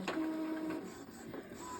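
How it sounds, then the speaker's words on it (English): An Epson EcoTank 2800 inkjet printer runs a page, with a whirring mechanical tone near the start followed by softer feed and carriage noises, close and fairly quiet. "I'm actually going to print it on the other side of this paper"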